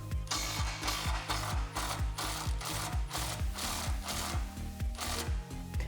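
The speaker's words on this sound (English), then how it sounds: "our next step is to loosen our clamp that's holding on our axle back" A ratchet wrench loosens a 15mm exhaust clamp bolt on the axle-back of a 2018 Jeep Wrangler JL 3.6L, making a close, steady series of quick rasping clicks in repeated strokes with no talking.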